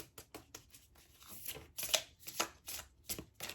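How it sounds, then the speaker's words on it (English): A deck of oracle cards is shuffled by hand in quick, uneven riffles and flicks, a series of crisp papery bursts close to the microphone in a quiet room. "Look at my messy shuffling."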